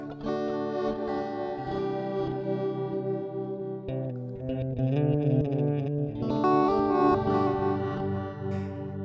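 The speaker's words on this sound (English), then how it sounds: "I like this psychedelic delay a lot" Electric guitar playing chords and melodic lines through a heavy, swirling psychedelic delay in Native Instruments Guitar Rig, with echoing repeats trailing each note and a warped wash throughout.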